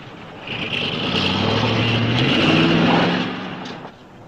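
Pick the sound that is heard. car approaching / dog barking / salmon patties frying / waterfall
car approaching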